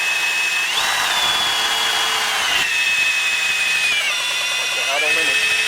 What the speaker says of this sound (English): Really bogged the drill down.